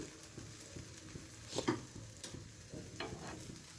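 Wheat flour batter for a thin dhirde-style pancake sizzles in a hot pan, a steady close frying hiss with soft scraping stirs, and no talking.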